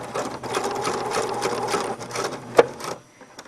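A sewing machine stitches a box shape to attach elastic in a fabric casing, running in a steady close whir with brief pauses, one sharp click near the end and then quiet.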